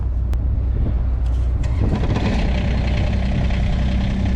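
A truck engine idles steadily at close range, a low continuous rumble with some knocking texture, running after a battery charge while the truck sits stuck in snow.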